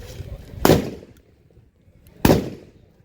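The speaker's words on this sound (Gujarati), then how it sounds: "આવી રીતે ફટાકડા ફોડાય દો" Two sharp Diwali firecracker bangs about a second and a half apart, each loud and close with a short ringing tail, separated by quiet.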